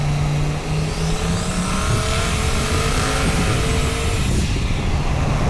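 A turbocharged LSX-swapped 1989 Ford Mustang Foxbody accelerates hard in second gear, its engine roaring loud and close with a rising whine, the tone shifting as revs climb.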